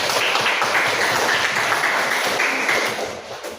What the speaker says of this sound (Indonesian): ya itu tepuk tangan dan tepuk tangan banyak